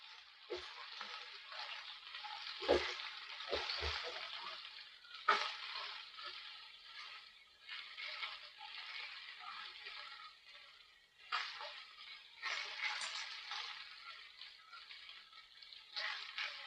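Chicken frying in a pan for a shawarma curry, giving a steady, faint sizzle with occasional louder crackles and a few stirring or turning clunks.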